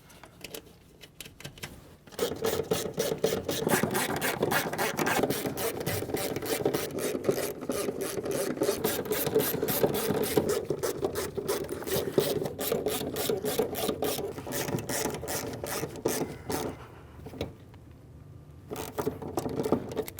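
Mounting nuts being started and snugged onto a 2012-2016 Subaru Impreza fuel pump, giving a steady, close rasping and ratcheting that runs for most of the span with a brief lull near the end.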